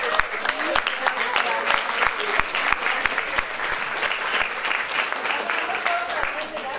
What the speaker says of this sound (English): we need to give another round of applause